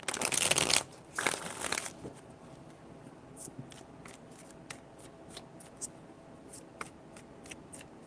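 Tarot cards are shuffled in two loud riffling bursts at the start, followed by a string of light, scattered card taps and flicks, close and quiet, with no voices.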